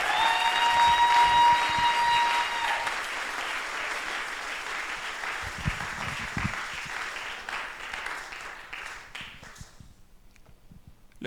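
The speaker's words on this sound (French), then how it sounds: "Give a hand to Jesus." A church congregation applauds together at a service, a dense, steady wash of clapping that holds loud and then gradually thins and fades away toward the end.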